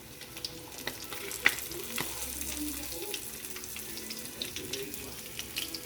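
Tilapia frying in a pan, a steady crackling sizzle with scattered pops and a brief sharper spit, close and moderately loud, with faint kitchen water-like noise mixed in and no talk.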